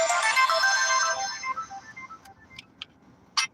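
An electronic phone ringtone sounds bright and melodic at the start, then fades over about two seconds into scattered faint tones and a short burst near the end, with no talk.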